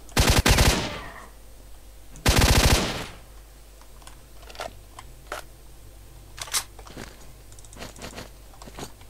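Gunfire shot through a wall in S.T.A.L.K.E.R.: Shadow of Chernobyl comes as two short, loud bursts a couple of seconds apart, followed by scattered quieter clicks and impacts.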